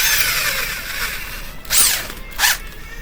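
A power drill with a countersinking bit cuts recesses in wood for large-headed tapered deck screws, giving two short, loud whirring bursts close by over a steady background hiss.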